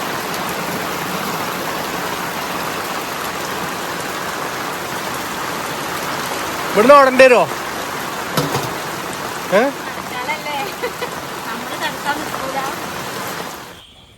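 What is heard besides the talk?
heavy rain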